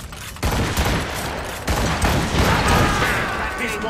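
Ship cannons in Assassin's Creed Rogue fire in heavy, loud booms, with a big blast near the start and another midway, followed by rumbling, overlapping naval gunfire.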